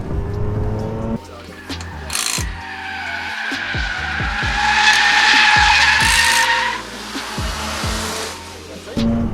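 A Mazda RX8 drifting, its tires squealing in a long sustained screech over the rising and falling engine, with brief gear and throttle changes; a voice speaks at points.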